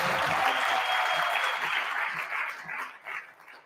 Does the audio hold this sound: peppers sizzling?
no